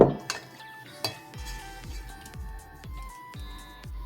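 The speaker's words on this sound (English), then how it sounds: "So we're gonna go ahead and sift the flour." Flour for scratch-made brownies is sifted with a quick series of rhythmic metallic taps and rattles from a sifter, close and fairly quiet, about a dozen evenly spaced knocks.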